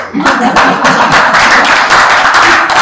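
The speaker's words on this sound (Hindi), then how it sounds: "आपको पसंद आया तो ताली बजा दीजिए" An audience claps together in a dense, loud burst that holds steady for a few seconds right after a talk about food, with a voice faintly underneath.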